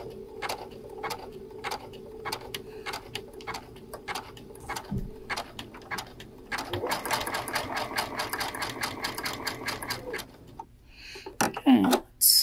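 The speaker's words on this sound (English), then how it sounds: "let's stitch that out and see how a 3 works" A Brother sewing machine satin stitching an applique runs in a fast rhythmic whir of needle strokes, close and steady, with a short quieter stretch before it speeds up and a few clicks near the end.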